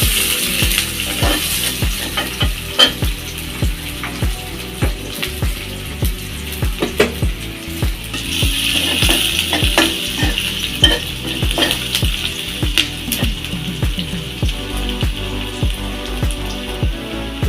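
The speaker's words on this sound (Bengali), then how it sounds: "পেঁয়াজ আর রসুন দিয়ে দিলাম, আমরা এখন লাল লাল করে ভেজে নিতে হবে।" Onion and garlic sizzle loudly in hot oil in a pan, with a steady frying hiss and repeated scrapes of a spoon stirring throughout, close and continuous with no talking.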